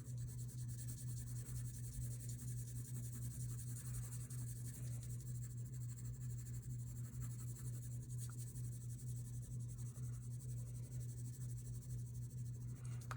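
Very faint scratchy rubbing of pencil shading and blending on paper while a cube is drawn, soft and continuous with no talking.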